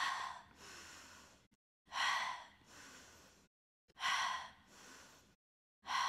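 Deep breaths during a hip stretch in a yoga or mobility session, a series of close, airy inhales and exhales in steady cycles of roughly two seconds, each separated by short silences, with no talk.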